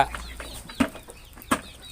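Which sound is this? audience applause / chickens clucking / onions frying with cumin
chickens clucking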